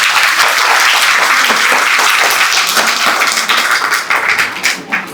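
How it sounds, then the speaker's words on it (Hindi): A packed hall audience at a school parents' festival in Raipur gives loud, dense applause. The clapping holds strong for several seconds, then thins out into scattered claps as it fades. "इसके लिए जोर से ताली हो जाए।"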